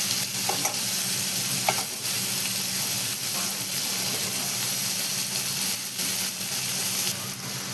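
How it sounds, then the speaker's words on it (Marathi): Onion and tomato sauté in a pan for a cauliflower curry with crushed peanuts, giving a steady, loud sizzle with frequent scraping stirs throughout and no talking. "आपण कांदा टमाटर असं सगळं परतून घेतलेलं आहे"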